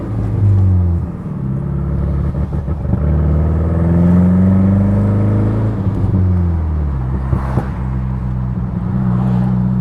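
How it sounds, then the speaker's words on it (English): A loud, rumbling 2015 BMW 228i engine with a raw, throaty exhaust drone from a downpipe-only exhaust, revving and shifting pitch as the car moves, close and continuous. "the car is really loud because I pretty much just have the downpipe"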